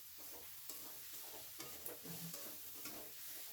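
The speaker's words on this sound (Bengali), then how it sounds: "ভালো করে নেড়ে চেড়ে দেবো।" Tomato pieces being stirred in a pan for a rui fish curry. The stirring scrapes run continuously under a soft sizzle, and a few brief louder strokes stand out. Nobody speaks.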